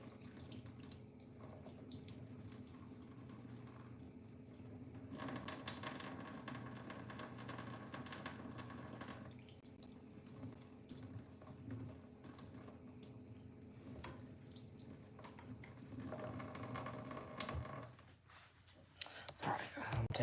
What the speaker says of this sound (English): I'm going to wet my stones for a bit here.